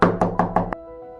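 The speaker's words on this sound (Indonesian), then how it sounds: "Hamzah terdengar bunyi ketukan pintu di luar rumahnya." Someone knocks on the door of a house in four even, close knocks followed by a fifth sharper rap, then a faint lingering tone after the knocking stops.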